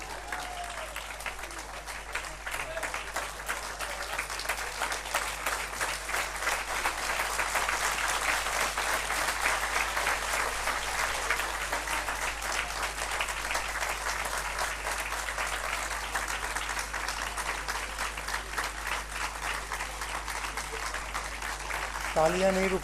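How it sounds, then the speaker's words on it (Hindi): Sustained applause from a large audience at a spiritual discourse gathering, dense and steady clapping that swells slightly and continues without pause throughout. "तालियां नहीं रुकती।"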